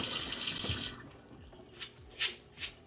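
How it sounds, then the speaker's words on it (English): Great Northern beans rinsed under a running kitchen tap: a close, bright rush of water that stops after about a second, followed by a few splashing drips and sloshes in the sink. "Now I'm going to give them a quick rinse."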